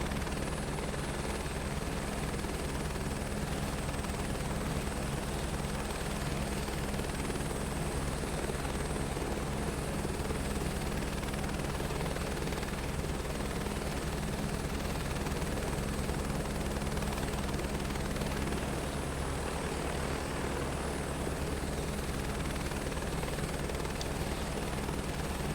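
A helicopter flies in the video game Microsoft Flight Simulator 2024 on a Leh to Manali highway trip, its rotor and engine making a loud, constant, unbroken drone with no voices.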